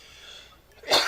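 A single sudden sneeze bursts out loud and close at the end, after a short stretch of near-silence.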